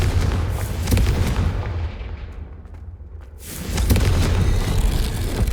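A Confringo fire spell in Hogwarts Legacy lets off a heavy, booming blast with a deep rumble that dies away, followed by a second loud surge of explosive roar.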